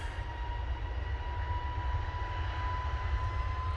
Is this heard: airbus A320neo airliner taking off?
yes